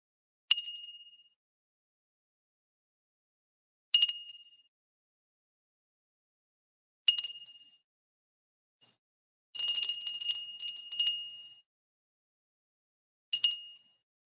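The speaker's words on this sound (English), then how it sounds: "So listen to the sound of the bell" A meditation bell strikes five times, several seconds apart, each a clear bright ding that fades off into silence. One strike rings on longer and more unevenly than the rest, and no voices are heard.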